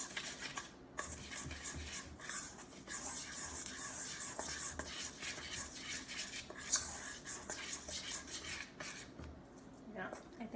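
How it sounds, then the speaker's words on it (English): Dry ingredients for chocolate mud play dough stirred in a bowl, a steady close scraping and rubbing that runs continuously with small clinks, with no voices. "so I will stir the dry ingredients myself"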